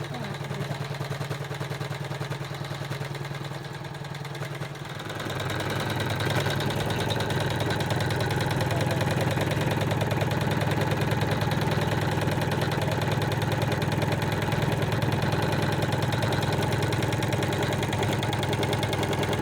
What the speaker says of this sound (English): That's got 11 more minutes on my machine to sew, and then we're done.